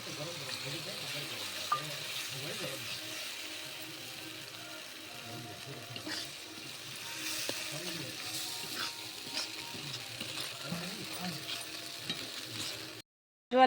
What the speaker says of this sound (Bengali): ভাজা ক্যাপসিকামটা দিয়ে দিলাম আর একটু কর্নফ্লাওয়ার গুলোনো জলটা দিচ্ছি